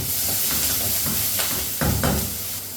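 Chopped ginger and green chili frying in hot coconut oil give a steady, close sizzling hiss with brief louder crackling bursts as the pan is stirred. No one speaks.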